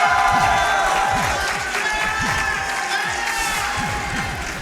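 A live crowd at a Summer Games Done Quick speedrunning event cheers and claps in a dense, sustained roar, with rhythmic thumping underneath.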